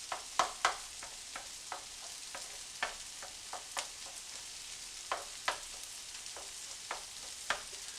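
An egg frying with rice in a large Teflon skillet gives a steady soft sizzle, broken by sharp, irregular taps and scrapes of a utensil, close and moderately quiet, no voices.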